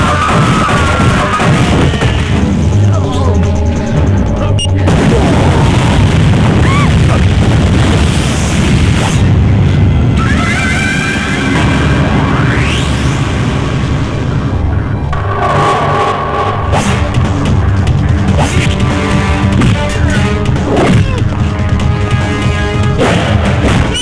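A bomb explosion in a Bhojpuri action film booms out as heavy, rumbling blasts with bursts and crashes, very loud and sustained within a dense soundtrack.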